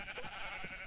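A single sheep bleats briefly in Minecraft, a soft, wavering blocky-game bleat heard alone at moderate distance.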